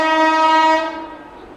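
An Indian express train, the Seemanchal Express, approaching at speed near Etawah, sounds a loud sustained horn that fades out toward the end.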